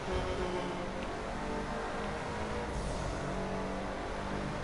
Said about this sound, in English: it sounds like this vehicle's been hit multiple times.